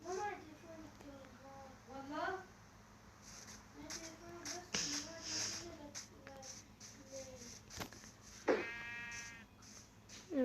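Sheep in a survival video game give a few bleats, a couple of faint ones early and a clearer bleat near the end, under someone talking and some shuffling game noise.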